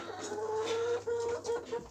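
Hens clucking in a farmyard, a steady run of soft, overlapping clucks and calls at moderate distance with no talk over them.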